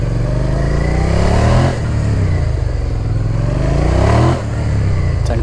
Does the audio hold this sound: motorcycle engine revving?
yes